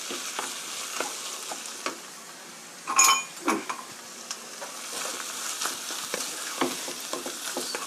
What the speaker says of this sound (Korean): 토마토 페이스트랑 토마토하고 양파가 골고루 섞이도록 섞어주세요.